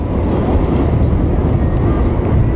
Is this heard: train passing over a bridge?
yes